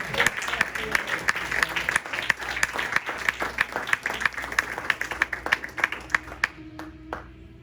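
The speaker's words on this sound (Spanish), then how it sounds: "Dale un fuerte aplauso al Señor" A congregation at a Spanish-language church service claps loudly and steadily, a dense run of rhythmic hand claps that carries on for several seconds before stopping abruptly.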